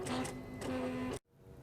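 Silhouette Cameo cutting machine slicing vinyl, quiet whirring motor strokes with short stepping bursts, two longer passes separated by brief pauses, stopping suddenly into near silence.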